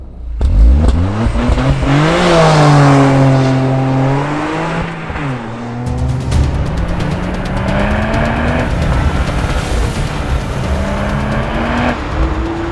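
A Toyota GR Supra manual sports car accelerates hard on a mountain pass, engine rising in pitch through the gears with a brief drop at a shift, loud and close, then pulling again with steady revving.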